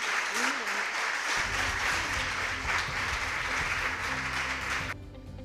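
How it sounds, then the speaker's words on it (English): An audience at an inter-school quiz competition applauds the competing schools, steady dense clapping under a loud voice and music, fading at the end. "So let's give them a round of applause"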